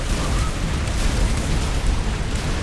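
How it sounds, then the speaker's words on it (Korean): A time bomb exploding in a StarCraft II mod match, a loud sustained rumbling blast that fills the whole stretch without any clear break. "자 시한 폭탄 자 여기서 폭탄 터지나요?"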